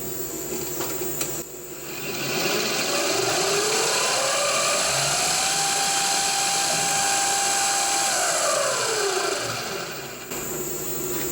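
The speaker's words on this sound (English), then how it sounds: "I might as well drill this one while I'm here" Power drill boring a hole in a steampunk backlit digital clock part, the motor whining up in pitch, holding steady while cutting for several seconds, then winding down, close and loud with no talking.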